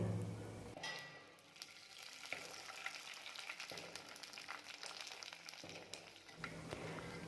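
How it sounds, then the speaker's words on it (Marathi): Rice flour papads frying in very hot oil, a continuous crackling sizzle with bursts of bubbling as each thin disc puffs, close and steady with occasional louder spits. "कडक तेलामध्ये आपल्याला हे पापड तळायचे आहेत"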